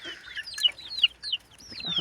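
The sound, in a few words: geese and goslings calling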